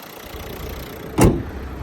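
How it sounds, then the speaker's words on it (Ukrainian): A 2015 Renault Grand Scenic with the 1.5 dCi K9K diesel engine idling, a steady low hum close by with a brief louder knock or thump midway. "Зараз автомобіль нас заведений, працюють денні ходові вогні."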